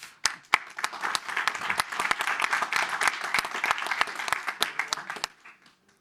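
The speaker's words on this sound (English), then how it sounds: "Please also shower him with a welcoming applause, Kuanysh Uzbekov." An audience claps to welcome a youth ambassador from the Youth Parliament of Kazakhstan at a conference session. The applause is a dense, steady patter of many hands that fades out near the end.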